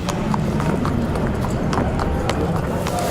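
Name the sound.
horses' hooves walking from stables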